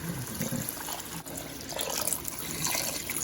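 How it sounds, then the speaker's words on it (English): Water pours steadily into a cooking pot of Congolese fumbwa with smoked turkey, a continuous close splashing and trickling that runs throughout. "So we're going to add water."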